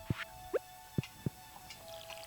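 Bubbling liquid in the farming video game Stardew Valley, four soft, hollow blips in quick succession over a faint steady hum, followed by quieter bubbling.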